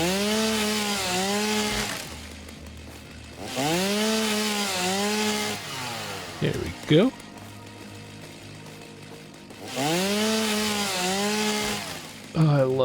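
Three bursts of a chainsaw felling wood in the game Satisfactory, each a loud wavering engine whine lasting a couple of seconds, separated by quieter idle gaps and a brief crack; someone speaks a few words midway.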